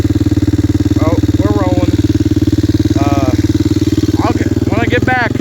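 A 1994 Yamaha Kodiak 400 ATV engine idles steadily and loudly throughout, a continuous low throbbing drone, with someone talking briefly over it.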